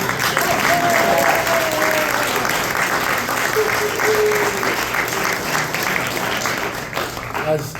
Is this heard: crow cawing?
no